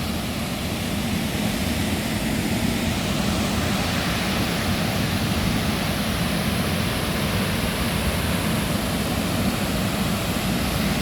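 At Aruvikkara Dam, water gushes through the opened shutters in a loud, unbroken rushing roar that holds steady throughout, with no one speaking.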